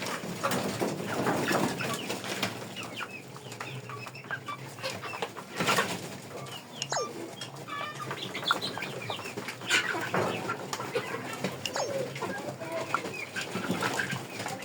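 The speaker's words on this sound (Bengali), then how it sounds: "এবার দেখবো মুরগিগুলা কিভাবে খাবারটা পরিবেশন করে" Chickens feeding on naturally sourced feed, soft clucks and bird calls scattered over a busy outdoor background with occasional wing flaps, moderately near and without clear talk.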